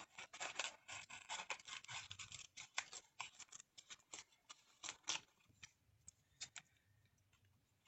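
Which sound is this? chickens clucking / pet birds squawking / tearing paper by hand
tearing paper by hand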